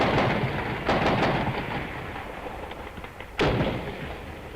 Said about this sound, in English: The Army is here and they're firing.